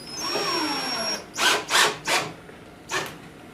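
A power drill fitted with a self-centering bit runs during installation of drawer boxes in homemade kitchen cabinets: a light whine, then four short sharp bursts with pauses between them, close and moderately loud.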